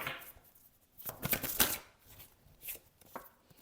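A tarot card drawn from the deck makes a few short, close papery swishes and soft taps, loudest in a quick cluster midway through, with no one speaking.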